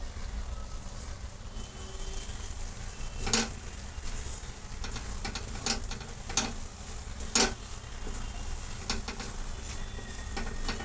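Bheja masala frying in a pan as ground roasted sesame and coconut are stirred in, a low steady sizzle broken by a few sharp spoon scrapes and clinks against the pan.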